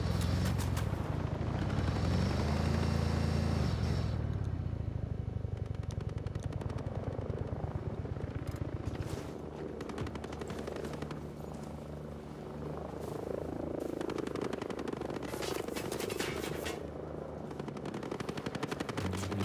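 A helicopter and machine gun fire in the Ghost Recon Breakpoint video game, played on PS5: a continuous rotor and engine drone under dense, sustained bursts of gunfire, loud and close throughout.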